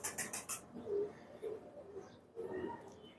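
Soft cooing from a female pigeon in a loft rises in a few low, rounded phrases, with brief rustling at the start and faint background noise throughout.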